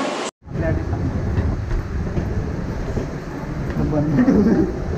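A train rumbles steadily close by at Mumbai's CST station, with faint rhythmic clatter and station bustle, after a short abrupt break at the start. The Konkan Kanya Express stands at the platform.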